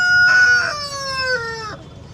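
A chicken gives a short crowing call up close, a loud drawn-out tonal cry that bends downward and cuts off after about two seconds, with no other sounds around it.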